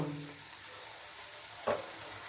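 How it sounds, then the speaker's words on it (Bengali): Battered bean slices fry in hot oil with a steady, even bubbling hiss, close and fairly quiet, with one brief louder crackle near the end. "দেখুন কত সুন্দর ভাজা হচ্ছে"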